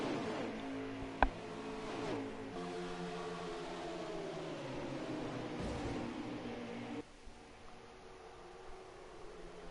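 A pack of stock cars in a Cup-series racing video game at Michigan roars past, engine pitch climbing and sweeping down as they go by, with a louder whoosh midway before the sound thins to a quieter drone.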